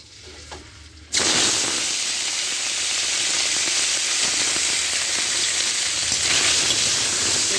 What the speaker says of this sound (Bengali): তেল গরম হয়ে গেছে, এবার আমি ট্যাংরা মাছগুলো দেবো।